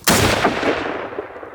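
A rifle fires a single loud gunshot at a buck during a Wisconsin deer hunt, a sharp crack followed by a long rolling echo that fades out, with no talk.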